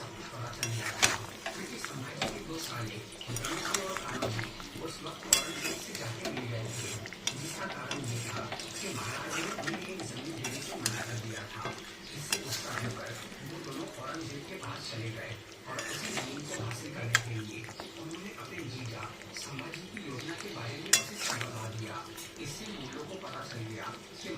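Metal spoon scraping and clinking in a pan as fried ground cumin is stirred into spices for a masala chicken curry, steady close scraping with irregular knocks throughout.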